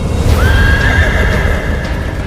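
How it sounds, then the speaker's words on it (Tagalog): Shrill neighing of carriage horses pulling a horse-drawn cart, one long high whinny rising out of a dense, loud backdrop of hoof clatter and movement. "sinundan ng matinis na paghalinghing ng mga kabayo"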